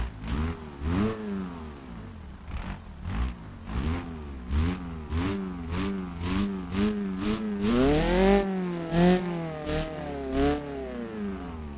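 A BeamNG.drive video game car engine with its muffler removed revs up and down repeatedly with a harsh, loud, unmuffled four-cylinder rasp, several sharp bursts in quick succession.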